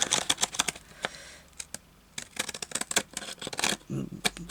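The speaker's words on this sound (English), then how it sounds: "We'll cut up here with our pinking shears" Big heavy-duty pinking shears cutting paper while making a bag pocket insert, a quick run of crisp, close snipping clicks in bursts, with a pause midway and a soft voice briefly under the later cuts.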